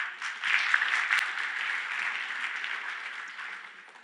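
Audience applause at a programming conference lightning talk session, a crowd clapping that swells quickly, holds steady and fades out gradually toward the end, moderately quiet in the room.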